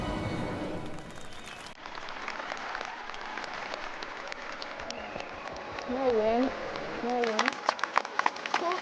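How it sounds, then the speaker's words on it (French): Audience applause at an outdoor Festival of Lights show in Lyon, a steady wash of clapping across the whole stretch, with a voice and some louder sharp claps near the end. "Le public, c'est super, il applaudit beaucoup."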